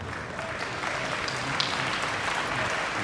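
Audience applause at a health presentation in London, a dense, steady wash of clapping from a large crowd, loud and continuous throughout with no voices over it.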